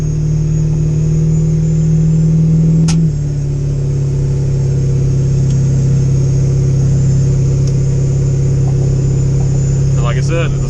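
A Ford 7.3 Powerstroke diesel truck with a manual-valve-body 4R100 transmission drones steadily from inside the cab, its tone dropping abruptly early on as revs settle, then holding an even rumble with a few faint clicks.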